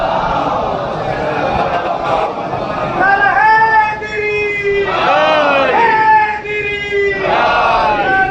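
A crowd at a Shia majlis recites salawat loudly in unison, several rising chanted phrases with sustained voiced tones swelling and falling over a dense babble of many voices.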